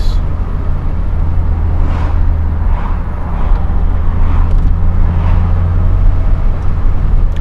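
A 1988 Peugeot 205 CTi with fuel injection drives along steadily, its engine drone and road noise loud and constant near the microphone, with faint whooshing swells as it moves.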